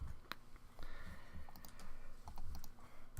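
Someone types a command on a computer keyboard in a terminal while installing software: a quiet, steady run of close key clicks and taps with no talking.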